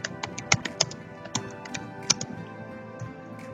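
Computer keyboard keys tapped in quick irregular bursts, close and clear, with a few louder strokes among lighter clicks.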